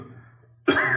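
A man's close, abrupt cough, forced out as a discreet signal, following a moment of near silence.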